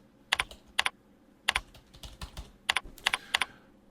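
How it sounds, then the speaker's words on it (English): Keys clack on a computer keyboard in short, uneven bursts of typing, close and fairly quiet, with brief pauses between runs. "I'm typing too fast."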